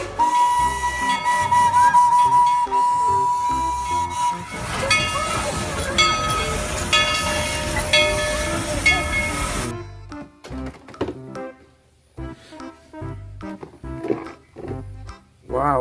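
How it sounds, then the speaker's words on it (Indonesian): A Thomas toy train runs with a loud, sustained steam-whistle tone and busy chugging and rattling, then drops to quieter, irregular mechanical clicks and whirs. "yang ini ada kereta api Thomas, teman-teman."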